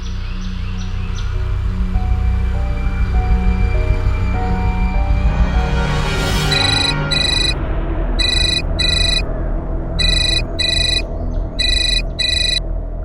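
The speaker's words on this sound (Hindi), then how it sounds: "कौन जयदीप सिंह का फोन है?" A phone ringtone chimes in repeated bursts of bright electronic tones over a loud, sustained dramatic musical background.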